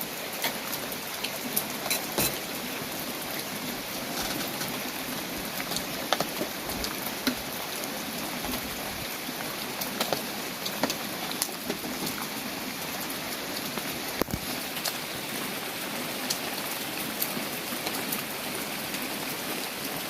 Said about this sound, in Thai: ชมบรรยากาศ ยามเช้า ฝนตก โปรยปลาย